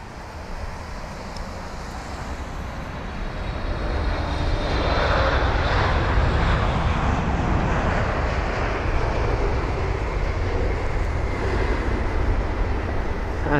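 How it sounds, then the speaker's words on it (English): Air Canada Boeing 777-300ER arriving from Vancouver and touching down at London Heathrow: a wide jet rumble that swells after a few seconds and stays loud and steady, with no talking. "we have got the Air Canada 777-300ER from Vancouver"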